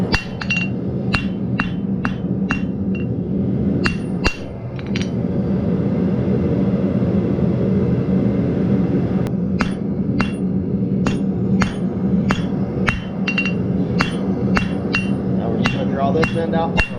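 Two pieces of steel hammered flat and tapered to a point ring out under a run of sharp, regular hammer blows, close and loud, with a pause in striking midway over a steady low workshop hum.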